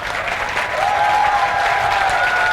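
An audience at the 2019 Islamabad Literary Festival comedy show gives sustained, dense applause at moderate loudness, with a faint steady tone underneath.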